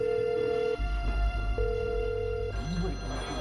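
A telephone rings inside a prison during a hostage situation, two long electronic ring bursts separated by a short pause, loud and close with background room noise.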